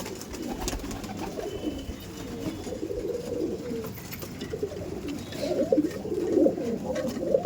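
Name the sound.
pigeons cooing in a pigeon loft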